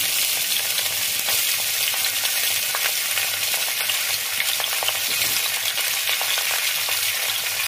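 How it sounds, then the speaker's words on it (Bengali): Vegetables fry in oil in a wok, making a loud, continuous crackling sizzle with occasional stirring scrapes, close and steady, with no voices. "এরপরে কড়াইতে তেল দিচ্ছি, এগুলো ভেজে নেবো।"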